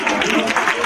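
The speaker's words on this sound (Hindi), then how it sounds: "एक बार जरा जोरदार तालियों से इस्तकबाल" Dense, steady applause from a crowd at a school annual day celebration, continuous clapping filling the moment with no pauses, fairly loud throughout.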